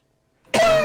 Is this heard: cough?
yes